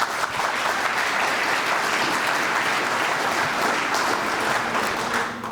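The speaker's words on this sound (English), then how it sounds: "So just give yourselves one more round of applause." Audience applause at a city State of the City address, a steady dense wash of clapping from a large crowd that holds at full strength for several seconds before easing slightly at the end.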